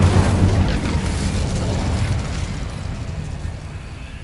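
Incendio fire spell cast in the video game Hogwarts Legacy, a loud burst that flares at the start and settles into a rumbling, crackling roar that slowly fades.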